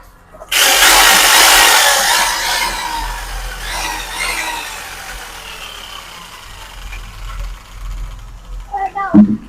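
A food processing machine starts up with a sudden loud whirring drone that then gradually settles to a lower running hum, with voices talking near the end.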